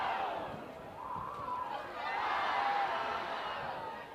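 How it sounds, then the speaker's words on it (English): A high school football crowd yelling together in unison, a sustained rising and falling chant heard from a distance, fairly faint and steady over several seconds. "the yelling of the fans in synchronies"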